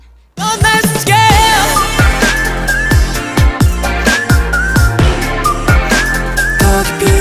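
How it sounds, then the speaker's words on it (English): Bright whistled melody in a K-pop song, short sliding whistle phrases riding over a loud beat with deep bass hits and layered backing music. "I love the whistle."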